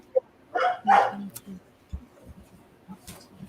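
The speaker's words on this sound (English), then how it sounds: "That's a dog. There's a dog." A dog gives a few short barks and yips at close range, followed by quieter scattered sounds, with people talking around it.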